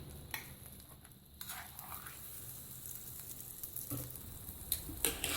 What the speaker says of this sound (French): je vais prendre de la pâte et je vais la verser dans le gaufrier